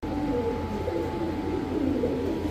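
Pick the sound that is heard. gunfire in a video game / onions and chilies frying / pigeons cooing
pigeons cooing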